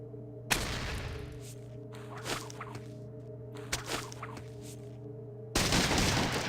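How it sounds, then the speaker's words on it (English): Shotgun blasts in the video game Fallout 1, a combat shotgun fired at mole rats: several sharp, loud reports spaced a second or so apart, each with a short decaying tail, over a humming game background. "you're using a lot of ammo when you do that with the combat shotgun"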